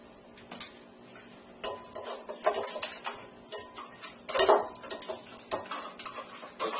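Finely chopped, soupy gazpacho vegetables, mostly cucumbers and peppers, are tipped from a board into a big bowl: scattered close clatters and scrapes, with a louder wet tumble near the middle and no talking.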